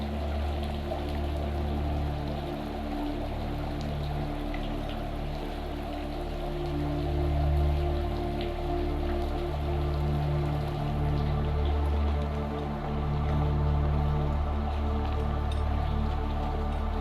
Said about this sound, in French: il pleut de nouveau